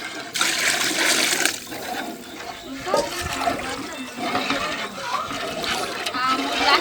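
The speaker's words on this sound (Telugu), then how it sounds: "మూడు గ్లాసులకి నాలుగున్నర వాటర్ పోస్తున్నాం" Water is poured steadily into a pot of rice for plain masala rice, a continuous splashing rush running throughout, loud and close, with a voice talking faintly in the background.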